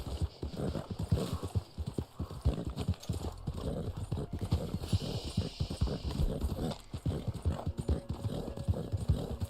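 Continuous clip-clopping hooves from a ridden horse in the game Red Dead Online, a steady close rhythm filling the whole stretch with faint whinny hints and light talk.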